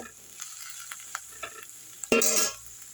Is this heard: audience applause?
no